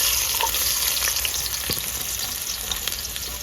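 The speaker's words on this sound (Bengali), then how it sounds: "পেঁয়াজটা আমার হালকা ভাজা হয়ে গেছে" Chopped onions frying lightly in a pan for chana masala, a steady close sizzle with occasional faint stirring clicks and no talking.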